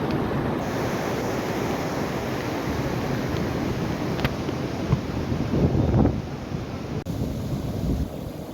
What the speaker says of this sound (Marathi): पाणी चालू झालंय हे पाठ फुटलाय अगदी मोठ्या प्रमाणामध्ये